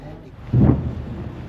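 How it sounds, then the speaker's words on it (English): A single low, muffled boom of a rocket interception rolls in from far away, a dull rumble over faint background noise. "You hear the boom? Yeah, I heard the interception."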